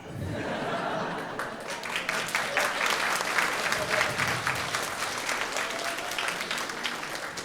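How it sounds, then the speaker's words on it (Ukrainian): Sustained crowd applause from an audience at a Ukrainian stand-up comedy show, steady and full for several seconds with a little laughter mixed in, no talking over it. "Дякую, що ви аплодуєте"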